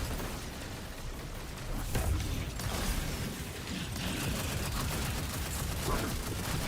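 Video game gunfire crackles in dense, rapid bursts, with shots rolling almost continuously over a busy mechanical din. Volume stays fairly steady, and a voice may be talking faintly underneath.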